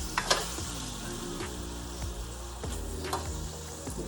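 Thin beef strips for pepper steak stir fry sizzle steadily in a hot pan, close and fairly loud, with a few utensil scrapes and taps over the frying.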